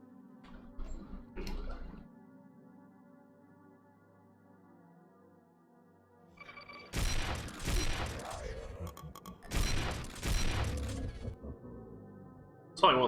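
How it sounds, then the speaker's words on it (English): Shotgun blasts in Doom 2, two loud bursts a few seconds apart after a quiet stretch of faint mechanical tones, with a sharper crack at the very end. "It's probably one of the better shotguns I've played around with in a while."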